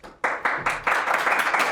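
Studio audience claps and applauds for comedy guests Josh Wolf and Danny Tamberelli on a talk show, starting abruptly after a short pause and swelling in several waves of steady clapping.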